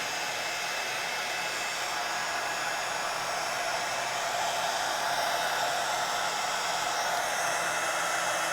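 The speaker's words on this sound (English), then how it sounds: "And I'm going to melt this embossing powder." A heat tool blowing to melt embossing powder on an art journal page, a steady, loud, close whooshing hiss of fan and air that holds unchanged throughout with no talking.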